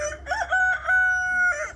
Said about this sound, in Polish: Kogut krzyczy.